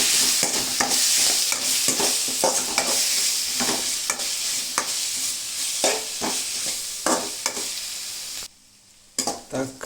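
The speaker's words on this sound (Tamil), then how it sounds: "தக்காளி வதங்குறதுக்கு கொஞ்சம் கல் உப்பை போடுவோம்." Tomatoes with a pinch of rock salt sizzle steadily in a pan for a chicken curry, with repeated scraping stirs of a spoon against the metal. The frying drops away briefly near the end, and no one talks.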